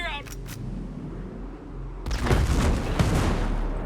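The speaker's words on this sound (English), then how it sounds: "Mortars, clear out!" Mortar fire and explosions in the Ghost Recon Breakpoint video game, quiet rumble giving way to a sudden loud blast and a dense run of booming impacts that continues to the end.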